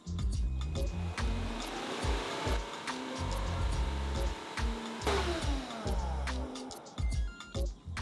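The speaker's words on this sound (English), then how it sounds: "the only thing basically that is self-clean is the roller, and we have a magic button for it" A Bissell CrossWave cordless mop runs its roller self-clean cycle, giving a steady motorized whir with sloshing, gurgling water and rattling bursts that rise and fall over several seconds, close and fairly loud.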